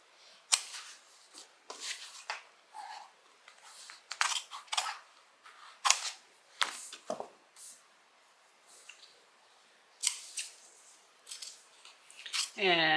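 Scissors snip intermittently through a fabric zipper pocket piece, cutting out its center for a Rosanne bag; short crisp cuts come in irregular bursts, close and fairly quiet, with rustling of material between them.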